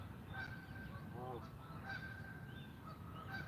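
A goose honks several times close by at a carp fishing spot near a fishing reel, its loud calls rising over steady outdoor background noise.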